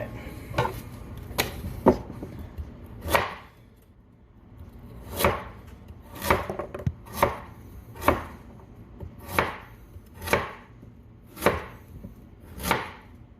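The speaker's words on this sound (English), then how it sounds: "we got the carrots chopped up" A knife chops carrots on a board in a series of distinct, evenly spaced sharp knocks, close and clear, with quieter handling noise between strikes.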